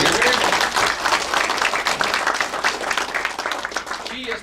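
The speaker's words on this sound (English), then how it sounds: "Give her a round of applause" A crowd applauds loudly and steadily, dense clapping filling the whole stretch without pause.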